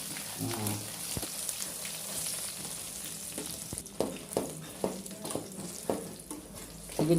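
Dried red chillies fry in oil for a gongura pickle, giving a steady soft sizzle with scattered pops and stirring clicks, several sharper knocks toward the end, and no talking.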